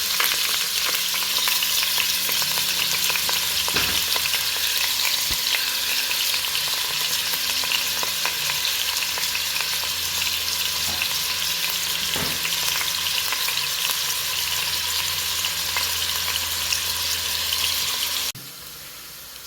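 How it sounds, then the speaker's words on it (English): Onions and garlic fry in a pan with a steady, loud broadband sizzle that holds for about eighteen seconds, broken by a few sharp stirring clicks, then drops suddenly quieter near the end. "Putting in our onions plus our garlic."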